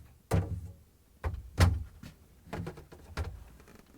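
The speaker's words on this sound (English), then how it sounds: "Now we can remove these crisper drawer support frame and lift it up and pull it out." A crisper drawer support frame being lifted and pulled from a GE refrigerator during a defrost thermostat repair, with several sharp plastic knocks and rattles spaced irregularly, close and moderately loud, without talk.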